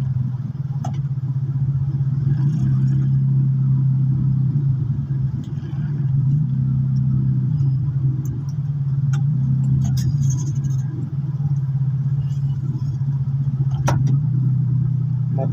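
Heavy road traffic in Dasmariñas, Cavite is heard from inside a vehicle: a loud, constant low engine drone and rumble runs throughout, with a few faint clicks and knocks on top.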